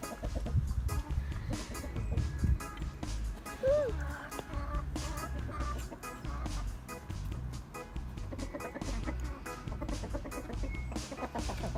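Chickens cluck and murmur nearby around a henhouse in a steady outdoor scene, soft irregular calls over low background noise, with occasional voices.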